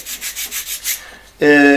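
Sandpaper rubs against the sharp edge of a wooden strip on a panel of a workshop cabin in rhythmic back-and-forth strokes. A loud, steady tonal buzz abruptly takes over at the end.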